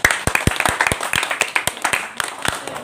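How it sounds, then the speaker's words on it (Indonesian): A small group of high school students clapping together, uneven claps at a brisk pace, fairly close and moderately loud, with a few voices mixed in. "Tepuk tangan kita."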